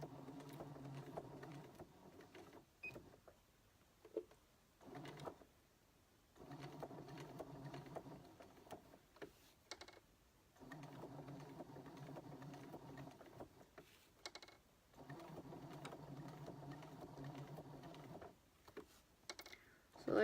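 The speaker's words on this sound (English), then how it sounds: "use my hand wheel to get the needle right down in that point where I want it to be" A sewing machine stitches vinyl or faux leather in short bursts of quiet, steady mechanical whirring, pausing between runs while the fabric is turned and adjusted, with small clicks in the gaps.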